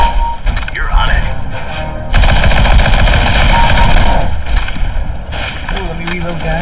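A P90 submachine gun fires in a video game as a dense, loud burst of rapid automatic shots lasting a few seconds, with game sounds and voices before and after.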